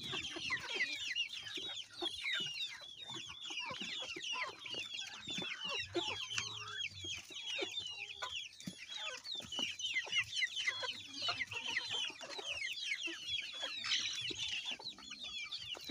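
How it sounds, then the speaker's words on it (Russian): White naked-neck hens on a small farm cluck and chatter continuously, a dense flock of overlapping clucks and squawks heard close by at moderate level with no talk. "Вот голошейная белая курочка."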